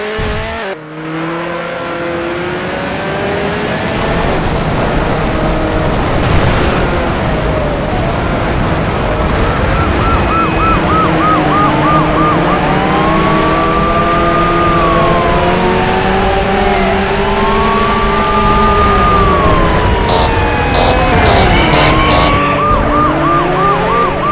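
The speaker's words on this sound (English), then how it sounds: "In pursuit. Vehicle is a red Ferrari 360 Spider." Police sirens wail and yelp continuously in Need for Speed Hot Pursuit 2 while chasing a red Ferrari 360 Spider. They rise and fall loudly over a steady engine roar with no talk.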